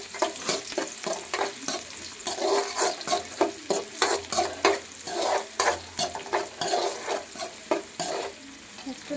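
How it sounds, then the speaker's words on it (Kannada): Onion and garlic sizzle and fry in hot oil after mustard seeds have popped, with repeated stirring scrapes in a pan for radish curry, loud and close with no talk. "ನಾನು ಈರುಳ್ಳಿ ಹಾಕ್ತಿದ್ದೀನಿ. ನೆಕ್ಸ್ಟು ಬೆಳ್ಳುಳ್ಳಿ ಹಾಕ್ತಿದ್ದೀನಿ. ಇದನ್ನ ಫ್ರೈ ಮಾಡ್ಕೊಳ್ಳೋಣ."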